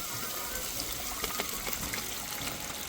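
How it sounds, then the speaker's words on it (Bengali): Water is poured into frying masala for a rui fish curry, a steady close gushing splash that fills the short moment with no voices. "ঠিক এই সময় কিন্তু জলটা দিয়ে দিতে হবে"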